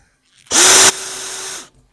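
A hand-held electric drill bites into stainless steel for the fish smoker in one short burst, starting with a harsh, gritty whine and settling into a steadier motor hum before stopping abruptly.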